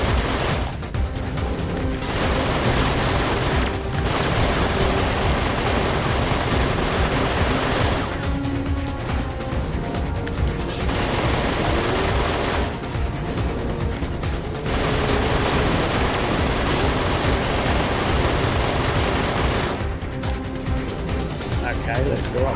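Weapons fire in the PS3 vehicle combat game Full Auto 2: Battlelines, forming a dense, continuous barrage of shots and booms that stays loud throughout and fades slightly in a few brief spots.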